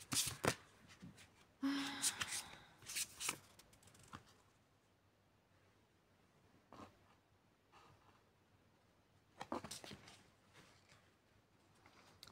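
Playing cards shuffled during a tarot-style card reading, several crisp riffling bursts with quieter pauses between, close and alone.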